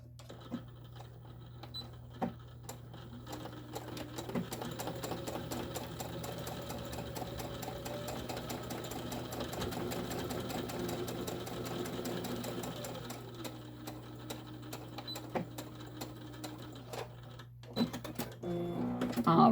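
A sewing machine runs steadily close up for about seventeen seconds as a tote bag is stitched closed, its rapid mechanical whir continuous and fairly quiet, ending in a few clicks and handling noises.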